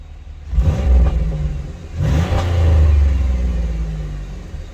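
A car engine cranks and catches, then settles into a loud, close, low idle rumble with a brief rev, no voices over it.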